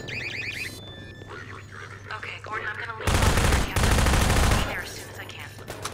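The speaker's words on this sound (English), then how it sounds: "I couldn't hear you from all the gunfire." Sustained bursts of automatic gunfire in the video game Half-Life 2, during the Entanglement chapter, loud and close in two long volleys, with game effects and voices in the first half.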